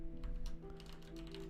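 Quiet keystrokes on a computer keyboard as a console command is typed into the chat of the game Grounded, a run of light taps over a steady background hum.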